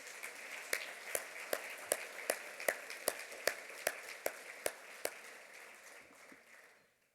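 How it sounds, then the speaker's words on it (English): Scattered applause for honorees at an awards dinner, with a dozen or so distinct nearby claps standing out over a thin wash of distant clapping that fades away. "Please give them a big round of applause."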